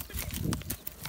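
A horse walks near a flock of sheep, a few irregular hoof clops on the ground, close by and fairly faint, with no talk.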